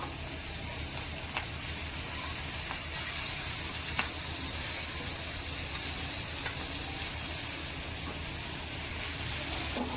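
Mandeli fish shallow-frying in a little oil gives a steady, even sizzle and hiss that lasts throughout, with a few faint clicks and no speech.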